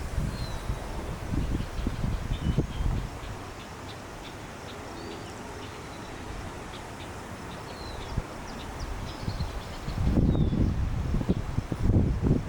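Gusty wind outdoors on a Colorado hiking trail buffets the microphone in loud rumbling bursts, with rustling and faint bird chirps in the background between gusts.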